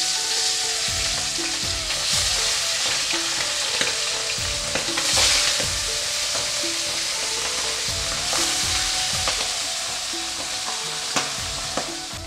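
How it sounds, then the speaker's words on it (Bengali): Pabda fish frying in hot oil in a pan, a steady loud sizzle with repeated scraping stirs of a utensil, close up with no talking. "এবারে মাছগুলো দিচ্ছি।"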